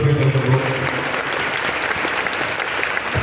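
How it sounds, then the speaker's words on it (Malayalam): An audience in a motivational class breaks into steady, dense applause close by, clapping continuously for a few seconds with faint voices mixed in. "ഒരു കൈയടി കൊടുക്കണം."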